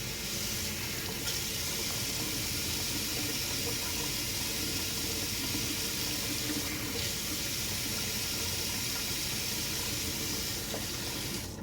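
Tap water runs steadily and close by while a face is wetted before a shave, a continuous broadband splashing rush with no voices over it.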